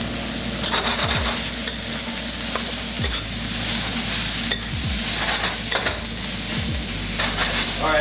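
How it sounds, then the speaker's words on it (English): Carrots and cabbage stir-fry in a hot pan with a loud, steady sizzle, and a spatula scrapes and knocks against the pan every second or so. "now I'm gonna add my carrots and my cabbage."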